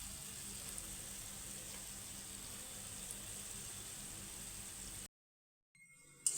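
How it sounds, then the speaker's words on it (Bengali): Chhana bora, sweet cottage-cheese balls, fry slowly in oil over a low flame, giving a faint, steady, even sizzle that runs unbroken before cutting out abruptly near the end. "এই যে দেখুন কি সুন্দর করে ভাজা হচ্ছে, আস্তে আস্তে ভাজছি"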